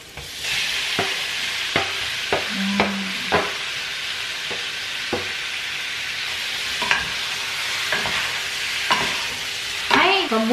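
Meat frying in hot oil with garlic and onion, a steady close sizzle broken by sharp spatula scrapes and knocks against the pan at irregular intervals.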